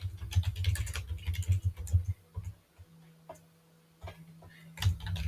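Someone types on a computer keyboard in quick, uneven bursts of close key clicks, pausing briefly in the middle before typing again.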